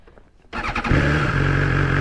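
A BMW S1000XR four-cylinder sport motorcycle engine cranks briefly and fires up, settling into a loud, steady, throaty idle close by.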